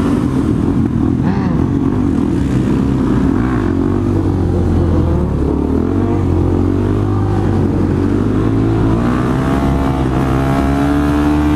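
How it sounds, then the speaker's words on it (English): A vehicle doing a burnout during a London rideout gives a loud, close engine roar that holds steady and revs throughout, with no talking. "Homie's hitting a nice burnout."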